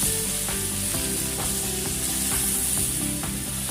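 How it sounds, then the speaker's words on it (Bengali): Already-fried vegetables for Bengali shukto sizzle in a pan under a loud, constant hiss, with a few soft stirring knocks and a low steady hum behind them, close by and without speech. "এতে আমি সমস্ত সবজিগুলো এরপর দিয়ে একটু নাড়াচাড়া করে নেব"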